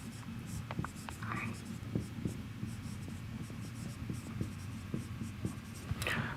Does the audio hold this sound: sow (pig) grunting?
no